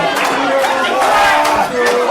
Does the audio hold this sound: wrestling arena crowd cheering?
yes